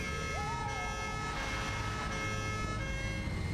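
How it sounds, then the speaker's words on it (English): A vehicle-mounted siren in the video game Satisfactory wails steadily and loudly, a sustained tone with a brief rising sweep near the start, alone without talk. "You just put a little siren thing on top."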